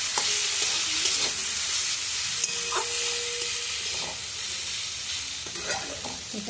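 Ginger and mixed vegetables for vegetarian chow mein stir-fry in a hot pan, a constant close sizzle broken by intermittent scraping stirs and light utensil knocks, with no speech.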